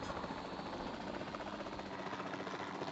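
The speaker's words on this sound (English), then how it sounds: "You can fly the helicopter." A helicopter in a video game, its rotor and engine giving a steady, dense whirring drone that holds at an even level throughout.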